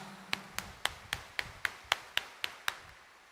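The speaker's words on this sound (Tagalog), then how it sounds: "itaas nga ang kamay at pumalakpak ng mas malakas" A congregation at a Sunday mass in Quiapo Church clapping in unison, ten crisp, evenly spaced claps at a brisk steady tempo, fairly faint and roomy with no speech over them.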